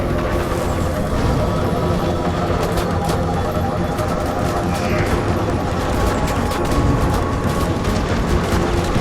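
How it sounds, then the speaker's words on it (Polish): Rapid gunfire from the video game Firefall, dense and continuous under a steady wash of noise, with sharp shots scattered throughout. "Słyszę strzały, ale nie widzę."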